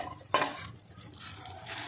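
A metal lid is lifted from a pot of katla fish bati chorchori starting to boil. One sharp metallic clink near the start is followed by a quiet rustle and faint bubbling.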